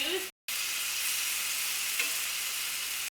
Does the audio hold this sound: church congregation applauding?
no